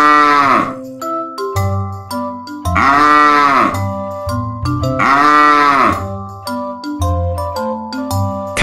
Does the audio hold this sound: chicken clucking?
no